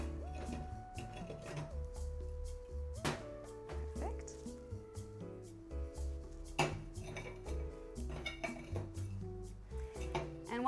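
A glass rim is rolled gently in coarse salt, giving faint scraping and gritty clinks with small taps and knocks against the dish, under a low ongoing hum.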